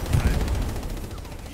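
Rapid machine gun fire in the World War II shooter game Hell Let Loose, a loud, dense burst of rattling shots up close, lasting just over a second with a voice talking underneath.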